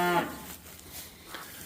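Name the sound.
mother cow mooing for her calf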